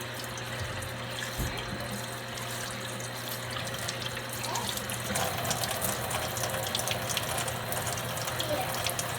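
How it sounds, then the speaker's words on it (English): Lukewarm tap water runs steadily into a sink during handwashing, a continuous close hiss of flow with faint splashing throughout. "you can use the lukewarm water"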